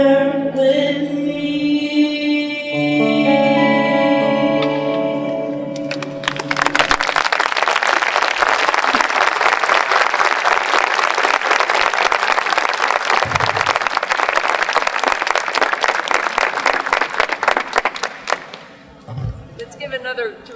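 A ceremony audience breaks into sustained applause after a band's sung performance, loud dense clapping filling most of the stretch before fading, with music in the opening seconds.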